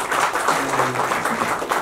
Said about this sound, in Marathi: फैजलसाठी एकदा आपण जोरदार टाळ्या वाजवूया